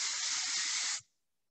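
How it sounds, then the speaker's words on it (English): Dry oil hair spray blasts in one continuous close, loud hiss for about a second, then cuts off abruptly into silence. "I'm going to go ahead and work with my dry oil spray."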